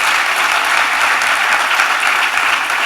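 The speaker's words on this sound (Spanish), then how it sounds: "yo les pediría un aplauso para nuestros tres panelistas" An audience at a business roundtable applauds its panelists, a loud, continuous wash of clapping from a full room with no break.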